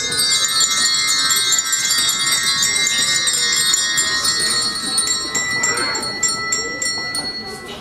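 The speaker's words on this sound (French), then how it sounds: "Faites sonner les cloches du village." Bells ring steadily as part of a song about village bells at an end-of-year amateur concert, a bright sustained chiming that keeps going under music and crowd sound, loud and close.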